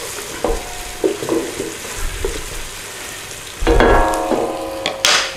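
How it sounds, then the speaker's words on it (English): Chopped vegetables sweat and sizzle in a pan as the base for moules marinière, a steady close frying hiss with stirring clatter and a louder burst of sizzle near the end. "We just want to sweat it down a little bit."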